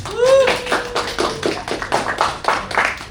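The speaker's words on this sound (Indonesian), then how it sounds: "Aplaus dong, tepuk tangan dong." A class audience claps after two students finish their public speaking presentation, a burst of handclaps with some taps and thuds, fairly close and loud, with a brief whistle-like tone near the start.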